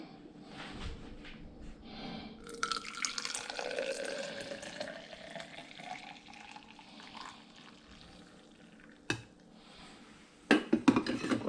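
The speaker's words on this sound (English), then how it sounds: "I'm not gonna not refill the ice cube tray, even though I'm in a rush." Tap water runs into an ice cube tray at a kitchen sink, a steady pouring stream of several seconds that shifts in pitch as the tray fills, ending with brief clatters of the plastic tray being handled.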